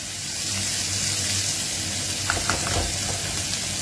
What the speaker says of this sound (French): Maintenant, je mets l'oignon. À flamme basse, les amis.